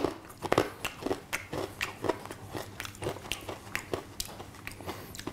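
Someone chews an Optimum Nutrition Essential Amino Energy chewable supplement up close, giving repeated wet, crunchy bites in an irregular rhythm, with no talking.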